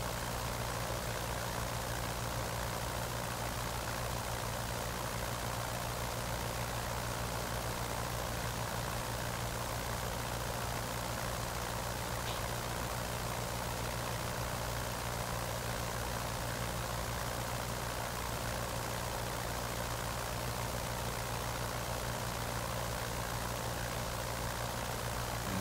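A simulated Ford Trimotor's engines idle in Microsoft Flight Simulator 2020, a constant, dense drone with a low rumble that holds unchanged for over twenty-five seconds, with no talk.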